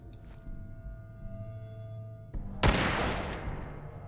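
A Model 1866 lever-action rifle fires in Fallout 4, one sharp, loud shot that breaks a quiet stretch of low ambient hum and then trails off in a long, bright ringing tail.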